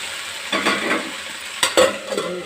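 Okra curry (bhindi sabzi) sizzling in a home kitchen pan while being stirred, with soft frying hiss and a few scraping spoon strokes, close and alone without talk.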